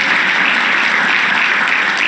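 Loud, dense applause from a congregation at an evangelical church service, a steady unbroken wash of clapping filling the whole stretch.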